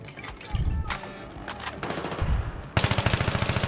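Gunfire from a competitive team video game match: several short automatic bursts and single shots, closing in a loud, dense stream of rapid fire.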